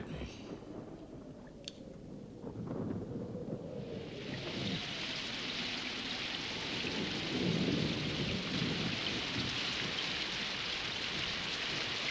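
Heavy cartoon rain sets in and builds to a steady hiss, with low rolling thunder rumbling underneath in the Moomin animation; a voice speaks briefly near the start.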